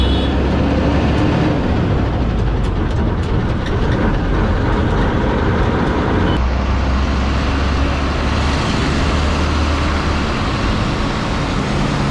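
A Chennai city bus rumbles loudly from inside, its engine drone and road noise shifting partway through as it slows to a stop at a bus stop. No one speaks.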